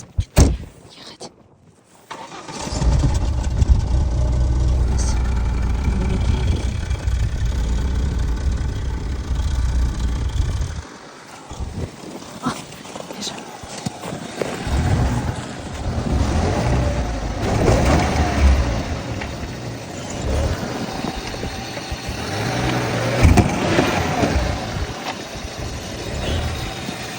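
A Lada Niva's engine runs and drives on a windy village day, a steady low rumble with shifting revs, preceded by a brief door-like thump and some rustling.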